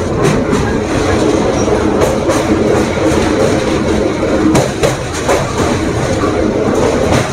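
A Santragachi–Digha special passenger train crosses the Kolaghat rail bridge over the Rupnarayan River, a steady loud rumble with rhythmic wheel clatter and sharp clanks from the wagons throughout.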